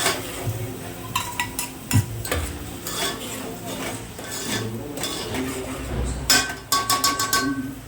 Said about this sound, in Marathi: थोडासा वाटलेला कांदा वाटून टाकलेला आहे म्हणजे पटकन त्याला चांगला गोल्डन ब्राऊन कलर येईपर्यंत भाजून करून घ्यायचा